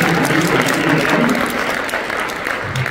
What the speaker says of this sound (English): Round applause for these students.